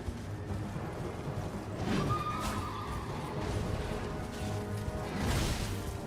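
Elden Ring horse neighing loudly with a clear whinny, hooves clopping and combat swishes and hits around it, heard close amid game noise.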